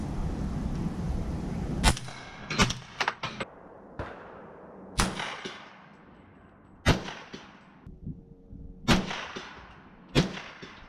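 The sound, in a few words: suppressed 300 Blackout rifle firing subsonic rounds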